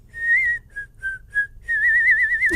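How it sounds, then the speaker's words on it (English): Someone whistles a melody hook during a band session: several short, clear whistled notes in a rhythmic phrase, then a longer wavering note, loud and close and heard alone. "Maybe we should have a whistle hook."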